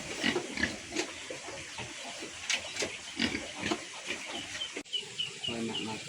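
Pigs on a small farm grunt and snuffle while eating, close by, in short irregular bursts, with chickens clucking faintly in the background.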